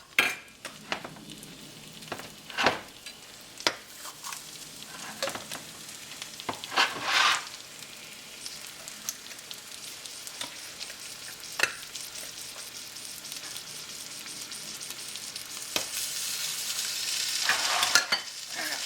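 Chicken hash cakes fry in a pan with a continuous sizzle and crackle, broken by intermittent scraping and clacking of a utensil against the pan, the frying swelling louder toward the end.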